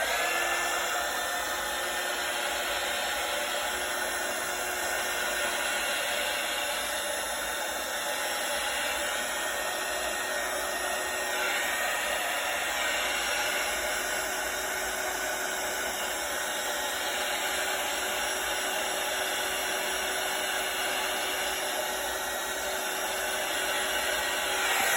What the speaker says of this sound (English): let me grab my heat tool, which was unplugged